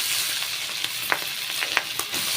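Potatoes and brinjal frying with fish oil and egg in a pan, a close continuous sizzle with a few soft stirring clicks and scrapes.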